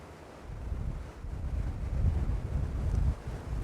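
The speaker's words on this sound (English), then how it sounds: "And the winds are picking up once again." Strong wind gusts at a waterfront in Mukilteo, Washington at sunset, a steady low rumbling roar that swells and buffets the microphone, growing louder toward the middle with no voices.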